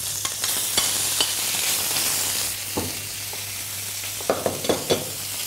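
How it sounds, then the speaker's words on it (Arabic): Chicken pieces sizzle steadily in frying oil on a grill, a loud continuous hiss broken by sharp scraping knocks as they are stirred and turned, with a cluster of clatters near the end. "هلا بعد ما نحط احنا الدجاج نبلش نقلب فيها لحتى ايه ما تنحرق وتاخذ لون"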